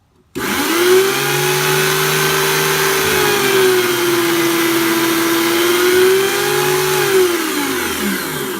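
A tire truing machine cuts a warm capped tire, giving a loud, steady mechanical whine with a low hum beneath it. The whine holds for about eight seconds with slight swells in pitch and no talking.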